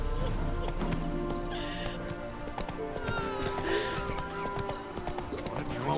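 Horse hooves clip-clop steadily in The Witcher 3 as the horse moves along, mixed with game ambience, a short whinny-like tone and faint voice.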